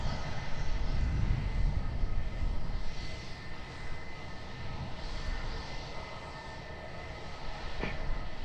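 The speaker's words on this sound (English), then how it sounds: "Next arrival on short finals, EasyJet flight 2322," An EasyJet airliner on short final arriving at Edinburgh Airport, in from Belfast, gives off a steady, broad engine roar that holds loud and even from start to end.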